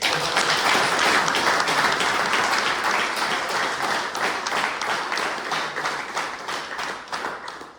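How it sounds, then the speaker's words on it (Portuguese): A church congregation applauds in praise, loud sustained clapping from many hands that holds steady for several seconds before gradually easing off. "Salva palmas para Deus."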